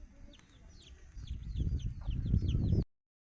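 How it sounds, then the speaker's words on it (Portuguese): A hen clucks beside her chicks behind a bonfire, with high, thin chick peeps repeating over low, close clucking that grows louder and busier toward the end. "olha a galinha com os pintos"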